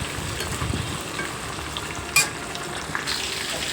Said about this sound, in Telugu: తాలింపు అయితే వేగింది.